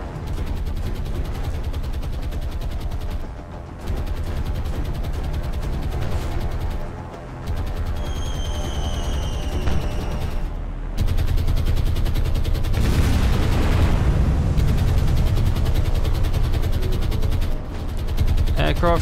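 Naval gunfire from an attacking ship in War on the Sea, a continuous loud barrage of rapid shots and booms over a heavy rumbling battle background, with a few brief pauses.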